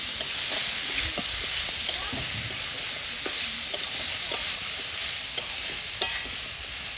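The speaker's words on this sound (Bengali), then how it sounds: "বেশ সুন্দর করে কাঁঠালটা ভাজা নিব।" Mashed young jackfruit fries in oil for a Bengali bharta, a constant close sizzle broken by repeated scraping and clinking strokes of a spatula stirring the pan.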